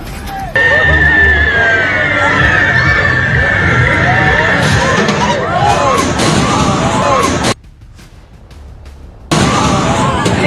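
A crowd on a fairground ride at Surajkund fair shouts and cries in a loud, dense babble of many overlapping voices. A sudden short silence breaks the noise before the crowd swells back in.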